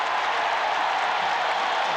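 Stadium crowd roaring at a 1993 Alabama at South Carolina college football game, a loud, steady wash of cheering and applause from a large crowd, continuous with no talk over it.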